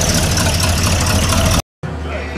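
An Oldsmobile 442 convertible rolls in at a VFW car cruise, its engine rumbling loud and close at a steady low idle, with a brief dropout near the end.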